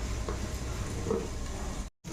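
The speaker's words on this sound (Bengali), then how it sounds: "কুঁদরিটা একটু লাল করে না ভাজলে ভালো লাগে না খেতে, তাই একটু লাল লাল ভাবটা ভেজে নেব।" Ivy gourd and potatoes frying in a pan, giving a steady, fairly quiet sizzle throughout that drops out briefly near the end before resuming.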